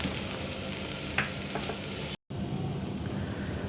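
Sabudana khichdi, soaked sago pearls with salt, frying and being stirred in a pan, giving a steady close sizzle with a few scraping clicks and a brief gap partway through.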